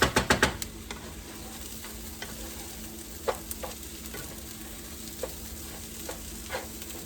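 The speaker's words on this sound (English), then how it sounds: "I'm waiting to see the toasty color of the rice, so I'll know when to put it in my pans and add the chicken broth." Rice toasts in a hot pan, with a soft continuous sizzle broken by scattered scraping stir strokes, close and moderately quiet, with a few quick clatters at the start and no talking.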